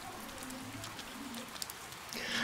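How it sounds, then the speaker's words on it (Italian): Rain falling in the video game Persona 4 Golden, a soft, steady hiss of drops with faint patters, fairly quiet and swelling slightly toward the end, with no talk. "Oggi piove."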